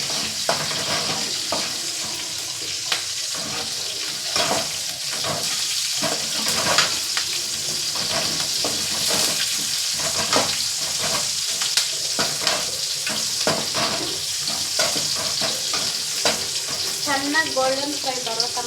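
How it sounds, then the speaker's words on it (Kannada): Curry leaves and spices frying in oil until golden for a Karnataka-style okra sambar, a steady close sizzle with frequent stirring scrapes and clinks throughout. "ಚೆನ್ನಾಗಿ ಗೋಲ್ಡನ್ ಫ್ರೈ ಬರೋ ತನಕ ಫ್ರೈ ಮಾಡ್ಕೊಂಡಿದ್ದೀನಿ"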